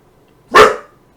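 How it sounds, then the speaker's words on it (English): A dog gives a single sharp, loud bark close by, alone against near silence. "Ignore that's the dog."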